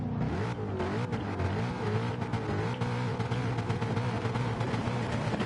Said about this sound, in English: As we hear a rev of the engines.